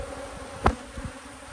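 Honey bees buzzing at an open hive during an inspection, a short close swell of buzzing as one passes near, over a low steady hum of the colony.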